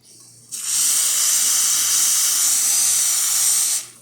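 A steady, loud hissing rush of hot water jetting from a Lelit Bianca espresso machine nozzle, starting abruptly and running for about three seconds before cutting off, with a low hum beneath.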